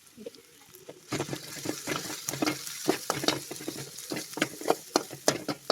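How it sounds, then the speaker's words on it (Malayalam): Chopped shallots dropped into a hot frying pan for a chicken liver fry, setting off a close, crackling sizzle with many sharp pops and spatters that grow busier after the first second. "ചെറിയുള്ളി ഞാൻ അരിഞ്ഞ് വെച്ചത് ഇതിലേക്ക് ഇടുവാണ്"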